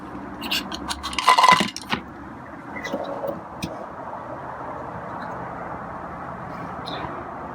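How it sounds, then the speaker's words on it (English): A bowl shuffled across the floor while a feral cat drinks water, producing a short burst of scraping and clattering early on, followed by faint sporadic knocks and quiet background. "I'm going to shuffle a bowl while he's drinking water."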